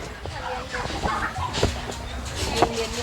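Poultry calls on a busy Thai farm of native chickens, with short clucks and gobble-like cries from several birds over a steady background murmur.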